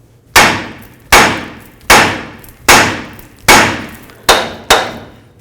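Seven sharp, ringing hammer blows strike a Ford F250 front suspension to separate a worn tie rod end joint, spaced about a second apart with short metallic decays, loud and close with no talking.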